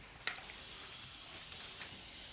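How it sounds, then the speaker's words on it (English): A spray bottle mists water onto a mould while painting; one short, soft hiss of spray stands out early against a quiet, faint room background. "I normally just spray water, mist water, just so I have a little bit of something to work with."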